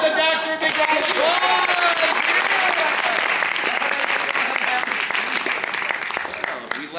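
Sustained, loud applause from an audience at an improv class graduation show fills the whole stretch, dense and steady, with a few voices and whoops riding over the clapping.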